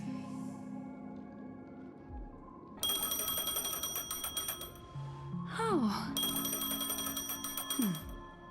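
An in-game phone in Honkai Star Rail rings with bright electronic tones in repeated bursts that start and stop, a short gap between them, and a brief voice exclamation partway through.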